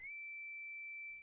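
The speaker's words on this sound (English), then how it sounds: "Protoman, your whistle sounds very funny." Protoman's whistle in the NES game Mega Man 5 plays as a single pure, steady high tone, held for about a second at a constant pitch with brief blips at its start and end.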